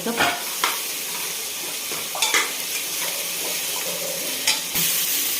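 Ginger, garlic and coriander get stirred into a hot pan of khichdi, a steady soft sizzle broken by a few sharp scrapes and clinks of the spoon against the pan, close and clear with no talking.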